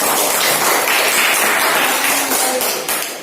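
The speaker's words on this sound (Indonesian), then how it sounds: "tepuk tangan untuk kelompok 1" Classroom applause for a student group during a science lesson on the human respiratory system: dense, fast clapping from many hands, loud and sustained, fading slightly at the end.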